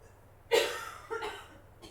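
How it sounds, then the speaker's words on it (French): Two short coughing bursts from a woman choking on tea, close and moderately loud, followed by a faint breathy sound. "j'ai ma compagne qui s'étouffe là"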